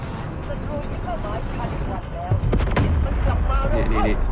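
Gunfire and shotgun blasts ring out in the mobile shooter Delta Force Mobile, a burst of loud shots partway through over steady game noise, with a voice talking over it.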